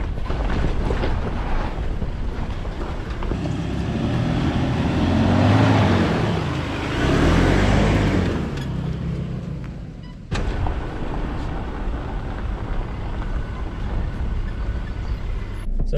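4x4 car crawling over a rough track along the Mary River in the Northern Territory, a continuous low engine rumble with cabin noise swelling and easing as it bounces over holes, ending in a sudden jolt, with no talk.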